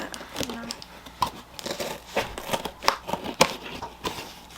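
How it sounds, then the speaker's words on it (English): Scissors cutting packing tape and a cardboard shipping box open during a ThredUP DIY t-shirt box unboxing, with close crinkling, snipping and tearing bursts in an irregular rhythm amid brief talk. "all you have to do is cut the tape and you cut the box"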